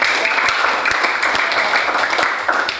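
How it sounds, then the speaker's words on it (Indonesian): A classroom of students applauds a classmate named Cindy, dense steady clapping filling the whole stretch at close range with no voices over it. "Oke, tepuk tangan untuk Cindy masih ingat catatannya."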